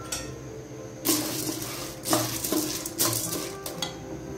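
Popcorn kernels poured into hot oil in a pan on a stove, heard as a few sharp clattering rattles and metallic clinks against the pan over a low sizzle, close and fairly quiet.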